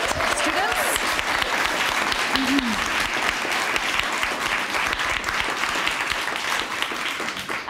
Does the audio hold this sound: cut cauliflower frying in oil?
no